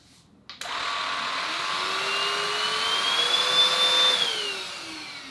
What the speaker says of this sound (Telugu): ఇట్లా పెట్టి మీరు ఆన్ చేస్తే మీరు ఇక్కడ చూడొచ్చు ఇది తిరుగుతుంది బ్రష్